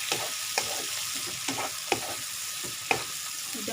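Shrimp and bitter melon fry in a pan with a steady, hissing sizzle, broken by repeated scraping strokes as the mix is stirred.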